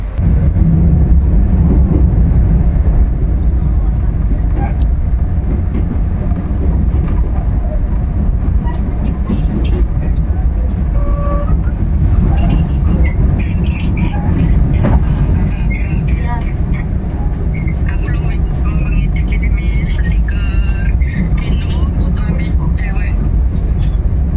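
A steady, heavy rumble of the Ijen Express passenger train arriving at Jember station, Indonesia, loud and continuous throughout, with a high squeal of wheels and brakes toward the end.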